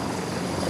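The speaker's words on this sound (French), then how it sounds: "L'hélicoptère est à 7-8 mètres de hauteur et voilà, il est en train de repartir dans un nuage de sable absolument indescriptible" A military helicopter lifting off from about seven or eight metres up in a cloud of sand during a special forces demonstration for the 14 July parade, its steady dense rotor and engine roar loud and continuous.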